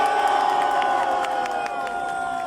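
A crowd at a rally in Paris supporting Mali cheers and whoops in a continuous roar, with scattered claps and sustained shouting voices blending into a loud, dense wash that holds throughout.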